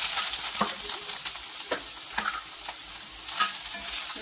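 Ginger pieces sizzle steadily in hot oil in a pan for an Andhra-style ginger chutney. A spoon stirs and scrapes against the metal at irregular intervals, close up, with no talking.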